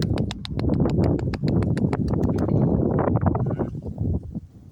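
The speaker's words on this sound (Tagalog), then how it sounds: "Tignan niyo po. Yan, kabayo." A horse clip-clops along a road above Malico, San Nicolas, Pangasinan, with brisk, evenly spaced hoofbeats ringing loud and close before the rhythm thins and fades near the end.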